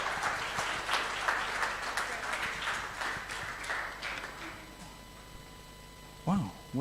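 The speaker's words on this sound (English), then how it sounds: "another big round of applause" Audience at a Sheffield DM meetup applauding after a talk, a steady spread of many hands clapping that tapers off, with talking and cheering mixed in near the end.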